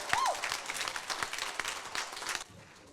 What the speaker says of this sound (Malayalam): ഒരു ബിഗ് ക്ലാപ്പ് കൊടുക്കാം.